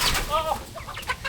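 A chicken gives a few quick clucks and a brief squawk, close and fairly loud over a low rumble.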